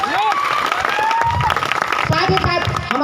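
An audience at a career opportunity program event applauds and cheers steadily for about three seconds, a dense wash of clapping with voices mixed in throughout.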